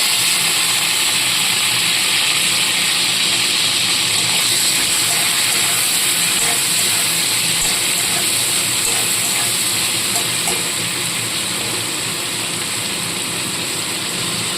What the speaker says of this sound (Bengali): তেলটা গরম হয়ে গেছে এবার চিংড়ি মাছগুলো সমস্ত ভালো করে ভেজে তুলে নেব